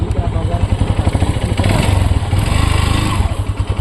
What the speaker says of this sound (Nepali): त्यही भएर म पनि बाइकमा चढिहाल्छौँ